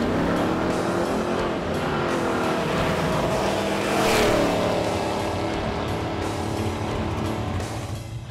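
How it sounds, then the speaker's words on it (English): A 1983 Hurst Olds V8 engine pulls hard at a racetrack, producing a loud, continuous roar that swells to a peak midway, then holds steady and eases slightly at the end. "this fire-breathing, dinosaur-burning, old-school power plant vibrating through the car"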